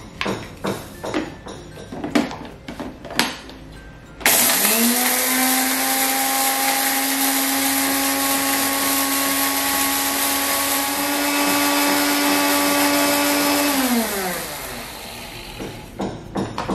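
An electric blender grinds cardamom and cumin for beef rendang, starting abruptly after a few clattering knocks and running as a loud, steady, high whine for about ten seconds before cutting off.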